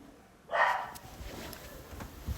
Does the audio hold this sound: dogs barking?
yes